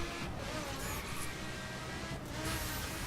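A supercar engine at high speed near its limiter in The Crew racing game, a sustained steady drone at fairly constant level with no talk over it.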